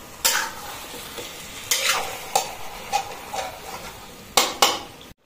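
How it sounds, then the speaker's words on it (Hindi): Marinated chicken and golden brown onions sizzle in a pan, with a steady fry hiss broken by several sharp scrapes and clinks of a spoon stirring against the metal. "इसको मैं 5 मिनट के लिए ऐसे ही भूनूंगी।"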